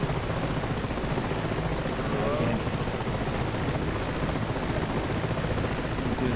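A helicopter with a very wide rotor blade in the DCS flight simulator game, heard as a steady, dense rotor and engine roar with no breaks.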